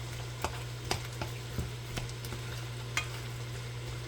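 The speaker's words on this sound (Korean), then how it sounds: "순서에 상관없이 다 넣고 뒤적뒤적하고" Shrimp and mushrooms frying in a pan, stirred with soft, sparse scrapes over a low, steady sizzle, close by.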